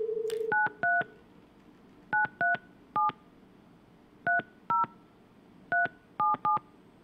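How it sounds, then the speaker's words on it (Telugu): A phone dials a legislator's number, sounding bursts of crisp touch-tone beeps in small groups of one to three, clean and distinct over a quiet background with no voices. "ఆయనకి ఫోన్ కలుపుతుంది బిగ్ టీవీ. ఎస్, రింగ్ అవుతుంది."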